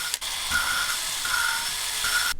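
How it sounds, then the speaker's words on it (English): While a 1971 Honda CT90 engine valve is being lapped, a drill whirs on and off in short bursts as its direction is switched, with a gritty rubbing noise from the valve being worked. "I'm just kind of bouncing the valve, and I'm also switching directions with the drill"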